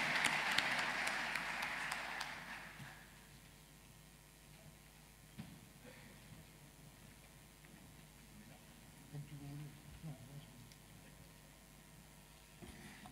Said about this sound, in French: Applaudissons ces trois audacieux